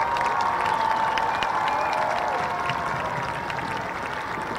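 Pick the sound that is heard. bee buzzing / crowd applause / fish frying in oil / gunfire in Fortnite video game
crowd applause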